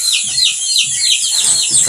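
Newly hatched chicks fresh from the incubator: a dense, steady chorus of high-pitched peeping close by, with faint low background noise beneath it.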